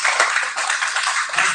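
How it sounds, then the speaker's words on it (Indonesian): Applause from a church congregation during a Pentecostal service: dense, steady clapping from many hands that fills the room for a short burst, loud and close, with no talking over it. "berikan tepuk tangan dulu"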